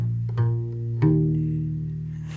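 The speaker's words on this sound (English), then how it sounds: "So if you play the instrument going from the ceiling to the floor, it sounds like this." Gimbri, a deep-toned bass lute, its strings plucked one after another from the ceiling side to the floor side: three warm, low plucked notes, each ringing and fading, played softly and close.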